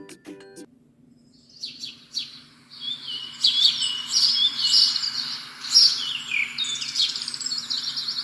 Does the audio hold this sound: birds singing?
yes